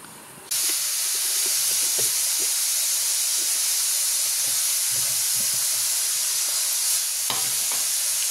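A kitchen mixer grinder grinding horse gram paste switches on after a brief quiet moment, then runs as a loud, steady, dense whirring roar until the end.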